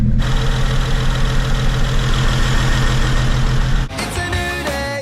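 A BMW 335i engine idles steadily with a rhythmic ticking knock from a camshaft fault, then cuts off near the end, leaving faint clinks and a high tone.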